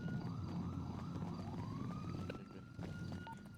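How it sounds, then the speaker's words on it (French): Sirens in a video game rise and fall in a wailing sweep, then settle into a long steady tone as they draw closer, with a busy low rumble of game noise underneath and no talk. "Il y a des sirènes qui s'approchent."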